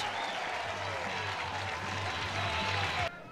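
Crowd at a college baseball game, Virginia versus Virginia Tech, applauding and cheering steadily as one broad wash of clapping, with a low hum underneath, before it cuts off sharply near the end.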